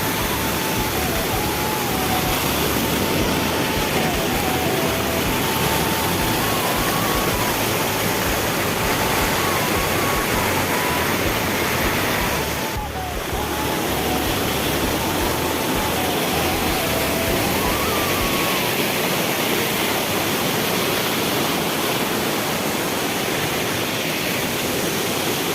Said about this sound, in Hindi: पानी किस तरीके से बह रहा है, देखो ऊपर से यहाँ तक गिर रहा है।